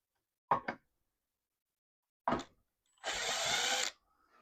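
A power drill backs screws out of a jig on a Delta bandsaw in a workshop: two short bursts, a pause, then a longer whirring run of about a second, close and clear.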